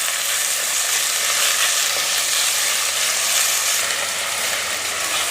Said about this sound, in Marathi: तेल गरम झालंय, आपण हे खडे मसाले घालूयात आणि त्यातच आपल्याला कांदा घालायचा आहे।